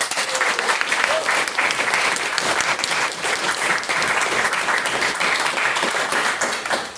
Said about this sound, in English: if we could get a second round of applause for what was Mr.